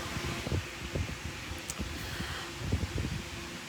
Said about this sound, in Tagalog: Malakas yung electric fan kahit nandiyan siya sa taas.